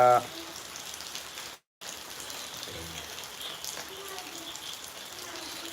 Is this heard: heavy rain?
yes